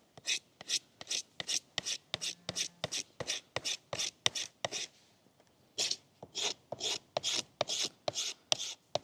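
Knife blade shaving green wood into a feather stick, a steady series of about twenty short, crisp rasping strokes close up, with a brief pause midway before the strokes resume.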